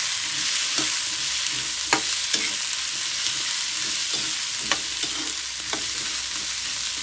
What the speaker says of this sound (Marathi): हलकंसं याला मी फ्राय करून घेते.